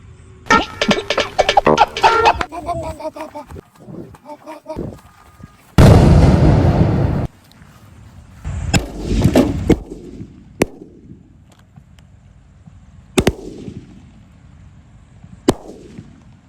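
Laxmi bomb firecrackers explode inside a water purifier outdoors: an opening rattle of crackling, then several sharp, loud blasts spaced a few seconds apart, each followed by a fading echo.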